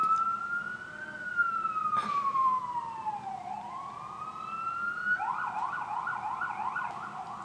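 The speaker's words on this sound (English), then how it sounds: "Thank you, police department or ambulance in Midtown Manhattan. I appreciate that noise." A police or ambulance siren wails outside in Midtown Manhattan, sweeping slowly up and down in pitch before switching to a rapid warbling yelp, steady and moderately loud over traffic rumble.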